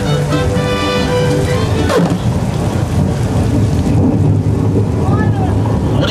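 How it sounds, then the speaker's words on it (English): Steady, heavy artificial rain from an overhead sprinkler system pours down on a studio tour at Universal Studios Hollywood in a continuous wash of noise, with a brief whooshing swell partway through and faint voices underneath. "this rain is actually produced by using an overhead sprinkler system"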